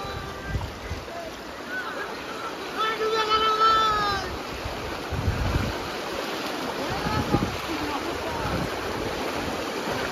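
Fast-flowing floodwater of the Shilaboti river at Simlapal, about knee-deep, rushes with a steady broad roar and wind buffeting the microphone, while faint voices come and go in the background.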